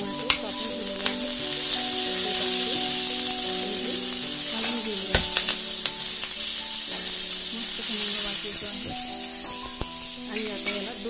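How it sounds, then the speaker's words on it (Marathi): Finely chopped tomatoes sizzle steadily in hot oil, a dense continuous frying hiss with scattered pops and a few clinks from stirring, loud and close with no talking. "आता तेल टाकते मी आणि बारीक टमाटे कापून ठेवलेले आहे।"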